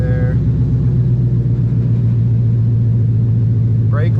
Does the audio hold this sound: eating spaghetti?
no